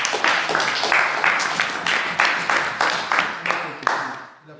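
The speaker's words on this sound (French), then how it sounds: "Applaudissons pour le Seigneur Jésus." A church congregation claps in praise, a lively burst of many hands beating in a loose rhythmic pulse, fairly loud and close, then tapering off toward the end.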